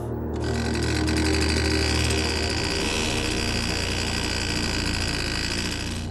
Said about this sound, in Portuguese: Ela liga o motor.